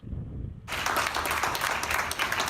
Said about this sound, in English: Showered with applause, Ken Liu is taking in the fresh air while taking his first steps out of the hospital.